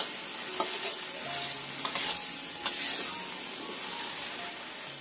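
A spatula stirs seasoned tofu in a hot frying pan, with a steady sizzle under repeated scraping strokes and soft clinks, close and fairly loud, with no talking.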